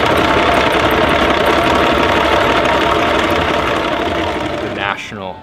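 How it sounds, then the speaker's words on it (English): A Singapore Sling cocktail machine at Raffles Hotel spins a canister of mixed ingredients, giving a loud, steady mechanical whir that runs continuously before tailing off, followed by a short burst of a voice. "This is a Singapore Sling machine."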